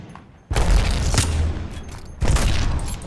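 Two sharp, loud electric bursts from an Arc Star grenade in Apex Legends, each a close, crackling blast that hangs and fades, the second following about two seconds after the first.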